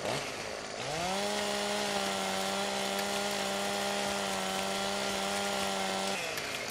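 A chainsaw trims limbs from a tree in Farming Simulator 17, its engine revving up quickly and then holding a loud, steady buzzing whine for several seconds before dropping off.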